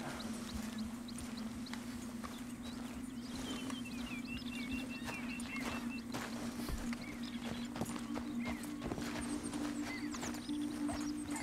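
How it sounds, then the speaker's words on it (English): A large horse walks in the Red Dead Redemption 2 video game, its hooves clip-clopping in an irregular steady rhythm over a quiet ambient bed with a low hum and scattered faint bird chirps. "A big horse, jeez."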